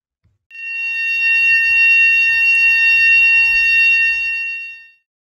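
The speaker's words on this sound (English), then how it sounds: "The fire alarm drill takes place at 8 a.m." A loud, steady electronic fire alarm drill tone sounds continuously for about four and a half seconds, then stops abruptly.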